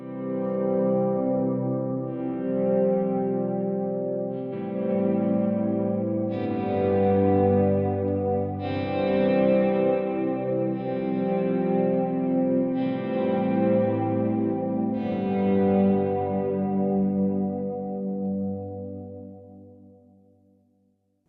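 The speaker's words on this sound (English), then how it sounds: "you hear the clean signal, but you hear a lot of reverb and delay" Clean-tone electric guitar swells wash in one after another, each chord fading up softly and blooming into long reverb and delay tails, layered and sustained, then trailing away at the end.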